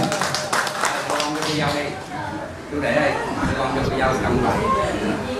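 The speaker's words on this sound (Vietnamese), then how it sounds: "chúng ta cho mình một tràng pháo tay ra để chúc mừng" Wedding guests clap together at a reception, a lively scattered round of applause mixed with chatter, voices and a little laughter throughout.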